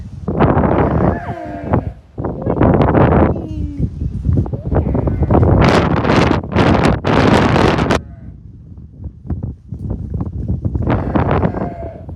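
Outdoor wind buffets the microphone on a farm beside round bales, a steady, rough rush that sits under a person talking, with faint sheep-like bleats in places.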